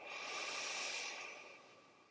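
A single deep, slow breath drawn during yoga, close and soft, an airy inhale that swells and then fades over about two seconds with no speech.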